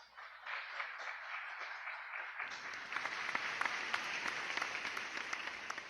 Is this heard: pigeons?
no